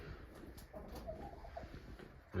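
Soft, low cooing from several pigeons shut in their enclosures murmurs faintly in the background, with a few wing or shuffling noises and a thump at the very end.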